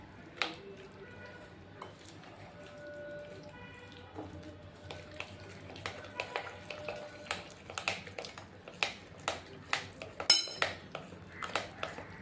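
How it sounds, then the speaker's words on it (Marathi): Oil and creamy milk are stirred into rava cake batter in a bowl. A spoon clinks and taps against the dish again and again, faint at first and then in quicker, sharper strokes. "1 वाटी मी साय असलेलं दूध टाकलेलं आहे आणि हे छान असं मिक्स करून घ्यायचं आहे"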